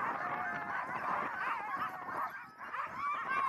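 A pack of sled dogs on Arctic Svalbard during the polar night whines, yips and howls continuously in an overlapping chorus, loud and close, with scattered barks throughout.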